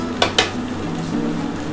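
A spoon clinks twice against a pan while sugar is added to sabudana pulao, two sharp metallic taps followed by soft stirring and faint sizzling, with no talk.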